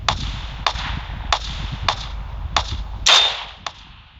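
Gunfire in the mobile battle game PUBG Mobile, roughly seven sharp single shots in a fairly even rhythm over low game rumble, one louder burst near the end, with no talk.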